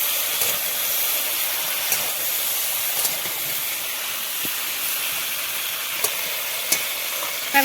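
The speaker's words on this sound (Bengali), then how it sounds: "কড়াইটা গরম হয়ে গেছে তেল দিয়ে দেবো সরষের তেল" Steady hiss of hot mustard oil sizzling in a wok, with a few faint clinks and taps over the continuous frying noise.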